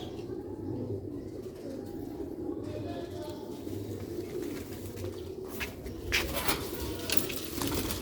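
Sialkoti rooftop pigeon chicks coo in low, soft repeated murmurs, with occasional wing flutters and background noise, heard continuously and fairly close.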